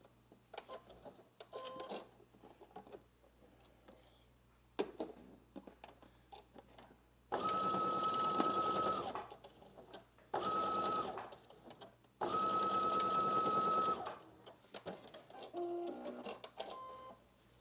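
A domestic sewing machine stitches a waistband facing in three steady bursts of a few seconds each, separated by quiet pauses with small clicks and fabric handling.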